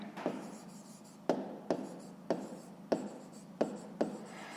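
A pen scratches an answer into a notebook during a fifth-grade maths exercise, in short rhythmic strokes about every second, close and quiet, with no voices.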